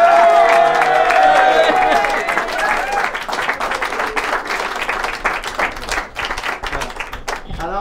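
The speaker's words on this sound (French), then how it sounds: "Plus vous allez applaudir, plus on va lever la jupe." A crowd at a Quebec outdoor-magazine announcement event claps and cheers loudly, a dense burst with shouts that gradually thins into scattered, uneven clapping toward the end.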